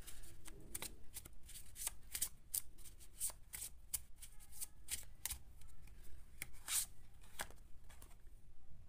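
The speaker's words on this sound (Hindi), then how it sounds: "तो आपके लिए एक टाइम प्रिडिक्शन से मैं कार्ड निकालूंगी।" Tarot cards being shuffled and drawn, with repeated crisp riffling slaps and flicks in an irregular rhythm, close and fairly quiet, with no talking.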